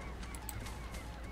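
Chickens run through a Plants vs Zombies 2 level, giving a steady clucking, honking fowl chatter over busy game background sound that continues through the whole moment.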